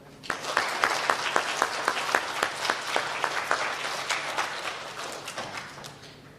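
Applause from an audience at an elementary school student recognition ceremony. Many hands clap in a steady, fairly close patter for several seconds, then it gradually thins out.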